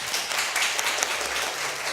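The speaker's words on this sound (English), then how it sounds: "Can you give our helpers a round of applause?" An audience of children in a classroom applauds their helpers during a dairy lesson on yogurt, a short burst of scattered clapping at moderate level with no talking.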